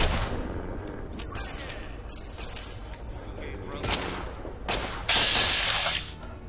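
Gunfire in the Fallout 3 video game, a dense burst of repeated shots and impacts with mechanical clatter, loud and mixed with speech throughout.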